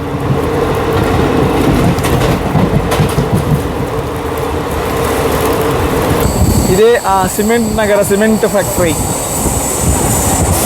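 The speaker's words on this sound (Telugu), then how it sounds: "టర్నింగ్లు కొడుతుంది మన ట్రైన్" A passenger train on the new Guntakal–Markapur line runs through curves, with steady rolling rumble and then sharp, wavering wheel squeals on the turns, loud and close, as someone talks over it.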